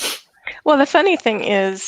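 A person sneezes once, a short sharp burst at the very start, before talking begins and carries on over the rest.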